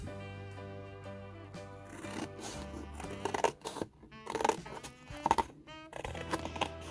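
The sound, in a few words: cutting a Christmas card to make a stencil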